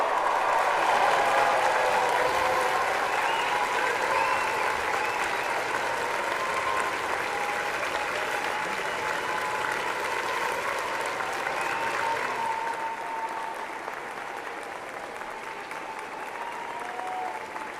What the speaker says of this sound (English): join me in applauding the amazing graduating class of June 2013